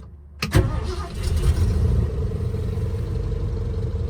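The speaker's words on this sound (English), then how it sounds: "Start up this bad boy." A 1972 Ford Bronco with a 302 V8 on Holley Sniper EFI and a new Napa motor starts with a short crank and catch, then settles into a loud, steady, rumbling idle close by.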